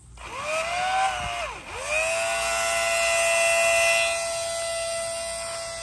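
A Vevor water transfer pump, hose attached, spins up to a loud, steady electric whine, dips briefly in pitch, then settles into a sustained high motor drone, close by with no talking.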